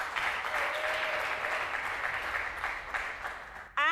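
A large congregation applauds at a church congress gathering, a sustained broad wash of clapping that thins slightly midway before a sudden louder burst at the very end.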